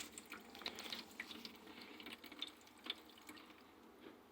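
Water from a gravity-fed portable camping shower runs out of a hose and splashes in a faint, steady trickle with small irregular spatters, close by and alone.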